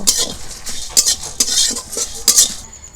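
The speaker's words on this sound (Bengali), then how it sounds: "ধনে আর এটা মৌরি আর আছে এটা জিরা একটু ভালো করে ভেজে নেব" Coriander, fennel and cumin seeds roast in a dry pan, with a light crackle under quick, rhythmic metallic stirring and scraping of a spoon up close.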